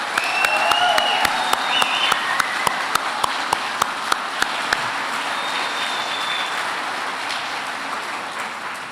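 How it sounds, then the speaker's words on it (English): A commencement crowd applauds the graduating class of 2022 in a loud, sustained wash of clapping, punctuated early by a run of sharp regular clicks before settling into an even roar. "A big round of applause to our graduating class of 2022"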